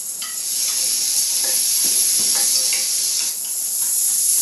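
Softer vegetables cook in a pot of carrot, onion and celery with a steady hiss of sizzling. Close, clicking spoon strokes stir through it at an uneven pace.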